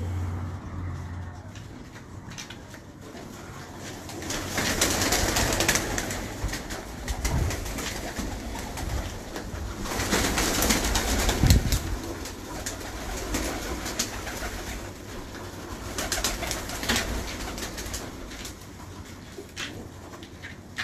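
Sialkoti pigeons cooing in a loft, repeated low throaty coos rising and falling over steady background noise with distant traffic.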